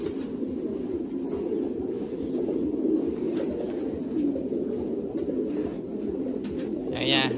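Thai Titan pigeons coo steadily on a breeding farm, a continuous low, throaty murmur from many birds with occasional soft wing flutters.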